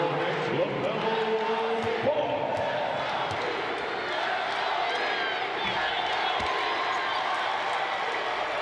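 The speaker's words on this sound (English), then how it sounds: "you can hear that crowd yelling, Let's Go Heat" Arena crowd noise at a Spurs–Heat basketball game at the Spectrum Center, a dense, sustained roar of fans chanting and yelling throughout, with occasional ball bounces and whoops mixed in.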